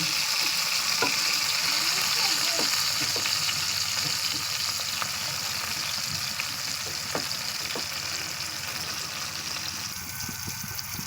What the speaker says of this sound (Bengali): এইভাবে আস্তে আস্তে উল্টে পাল্টে চাপ দিয়ে ভেজে নেবে।